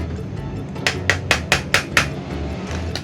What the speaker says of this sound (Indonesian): Kemudian saya haluskan dulu tuna kalengnya.